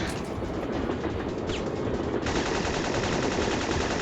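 Gunfire from the video game Syphon Filter crackles in a dense, continuous rapid-fire burst, loud and close, with no talking over it.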